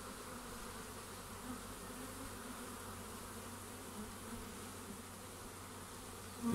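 A large cluster of wild honeybees swarming in August gives a steady, dense buzzing drone that holds evenly throughout, close and continuous with no voices.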